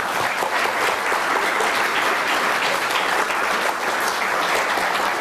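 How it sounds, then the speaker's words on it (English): A large audience applauds at a city's State of the City address, with dense, steady clapping that stays loud and unbroken throughout. "Can we give them a round of applause?"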